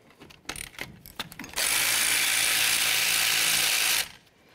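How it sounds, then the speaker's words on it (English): A hand ratchet works loose the brake caliper slider bolts on a 1998-2011 Ford Ranger: a quick run of mechanical clicks, then a loud, steady whirring rush for a couple of seconds that stops abruptly. "we're going to continue on to removing our caliper slider bolts here"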